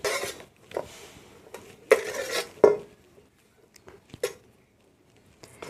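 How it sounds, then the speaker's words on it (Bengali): Semolina and potato dough handled onto an oiled metal plate, giving scattered scraping clinks and soft knocks of metal in short bursts, separated by near-silent pauses. "সুজির ডোটা পুরোটাই থালার ওপরে তুলে নিচ্ছি।"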